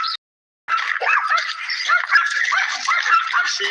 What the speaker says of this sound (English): This is my dog, my wife and I's dog, Storm, dealing with the yappers on one of our walks.